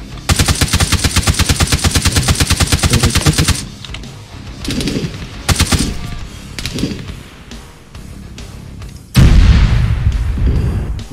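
Gunfire and explosions in the video game Arma 3: a long rapid machine-gun burst, then scattered shots and heavy booming artillery impacts, loud and close.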